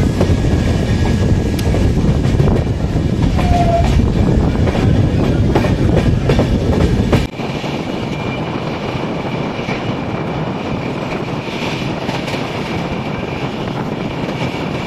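Inside the 12304 Purba Express as it runs on after leaving Asansol station, a steady loud rumble of wheels and rail clatter continues throughout, dropping somewhat in level midway.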